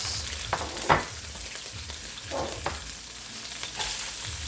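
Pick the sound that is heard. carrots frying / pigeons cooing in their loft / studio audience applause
carrots frying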